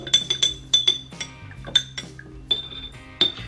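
Glass yogurt jars clink together repeatedly as they are set down one by one into a yogurt maker, bright close ringing taps in irregular bursts with short gaps between.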